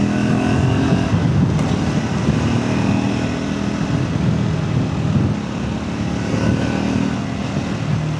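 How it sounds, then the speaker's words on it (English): Steady, loud exhaust drone from a Triumph Scrambler 400X motorcycle on the move, a close continuous engine rumble mixed with wind noise throughout, without any voices. "इसका exhaust sound भी काफ़ी मज़ा आ रहा है सुन के।"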